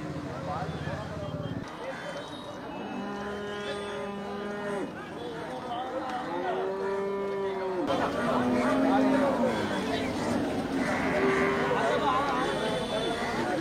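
Native cattle at a busy cattle market low and moo several times, with long drawn-out calls near and far while people chatter and talk in the background.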